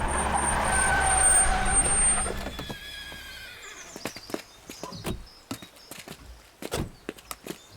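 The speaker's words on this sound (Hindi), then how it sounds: "यहाँ इतने सारे घोड़े क्यों हैं?" Several horses are brought to a stop on a road, first with a loud engine-like rumble and a high whine, then a scatter of sharp hoof clip-clops and stamping at close range.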